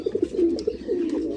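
Pigeons on a farm coo close by in soft, throaty, repeated bursts that run continuously with no talk.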